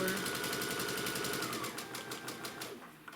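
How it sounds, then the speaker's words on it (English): A sewing machine stitching quilt triangles slowly over pins, a fast steady needle rattle close up that slows and stops near the end. "I do sometimes sew over pins, but I just do it slowly."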